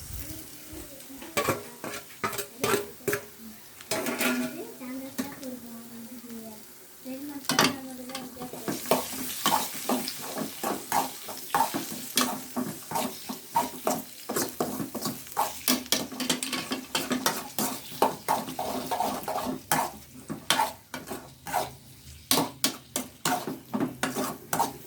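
Chicken liver sizzles with onions and garlic in a pan while a utensil scrapes and stirs in steady strokes, close and continuous, with a brief lull partway through.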